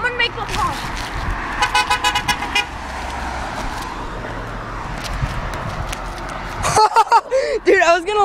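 Passing road traffic with car horns tooting and honking on a roadside, loud and repeated, mixed with engine noise and a voice imitating the honks; people talk and shout excitedly throughout.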